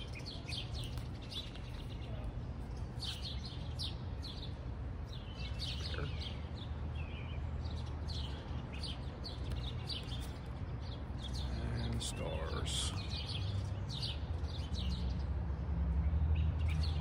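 Birds chirp and tweet in short, scattered calls over a low, steady background hum, faint and somewhat distant throughout.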